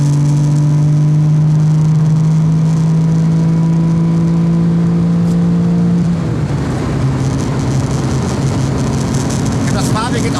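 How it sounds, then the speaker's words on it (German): A Porsche 959 accelerates hard as its sequential turbo system skips the small charger and goes straight to the large one. A loud, steady engine drone starts to shift partway through, with the pitch rising and the sound turning rougher under the building boost. "wenn wir jetzt Gas geben, überspringt er den kleinen Lader und geht direkt in die Registeraufladung mit dem großen Lader rein"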